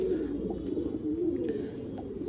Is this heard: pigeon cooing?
yes